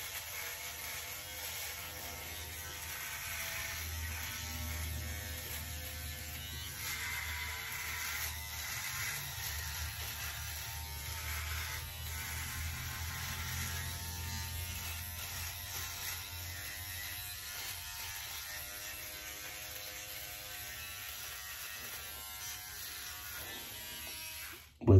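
A Philips Norelco OneBlade 360 electric razor buzzes continuously and close while shaving against the grain of a beard, holding a steady hum throughout.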